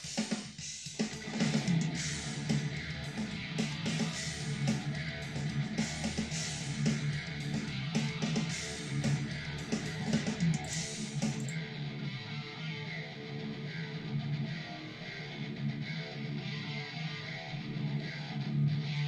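A double-tracked demo recording of a song plays at moderate level, layered instruments and sustained tones running steadily, with a sharp change partway through as the upper range drops away.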